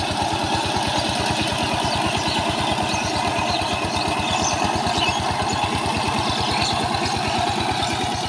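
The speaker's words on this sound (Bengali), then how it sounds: "এখানে কিন্তু মেশিন দিয়ে চাষ করা হচ্ছে জমিতে" A farm tilling machine works a village field, its engine chugging in a steady, fast, even rhythm close by for the whole stretch, with no voices.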